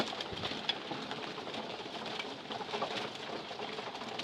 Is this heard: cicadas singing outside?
no